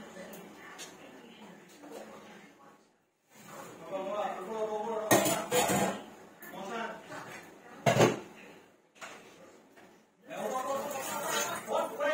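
Dishes being washed by hand at a home sink, with plates and cutlery clinking and clattering in irregular bursts, and a couple of louder knocks, alongside running water and background movement.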